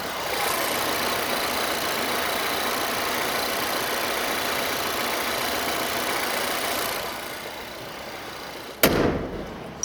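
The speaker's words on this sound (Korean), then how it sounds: "엔진음 들려드릴게요" A 2018 Volvo XC60 engine idles with the hood open, a steady, even rumble for several seconds, then a sharp thump sounds near the end.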